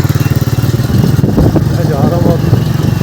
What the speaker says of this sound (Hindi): ये निकला जी हमारा मोटरसाइकिल